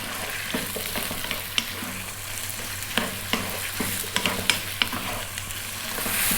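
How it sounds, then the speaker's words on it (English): Chopped onion and celery fry over medium heat in a pan, a steady sizzle broken by sharp, irregular clicks and scrapes as a utensil keeps them moving; no one talks. "The 1 cup of onion, in that goes, and the half cup celery. Above medium heat, 3 to 4 minutes, keep it moving."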